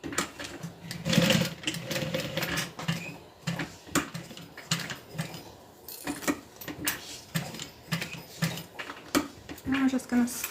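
A sewing machine stitches around a cotton canvas tote in uneven bursts of rapid mechanical whirring, close and moderately loud, with a person talking in between.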